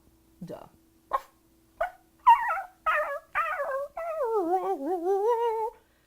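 A person imitates dog sounds with the voice, giving a series of short yips and barks that grow into a long, wavering whine-like howl, close and clear.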